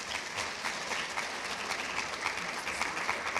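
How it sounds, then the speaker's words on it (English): Audience applause at a cancer summit, a steady wash of many hands clapping at moderate distance for the whole stretch, with no talking over it. "Can we give her a round of applause, please?"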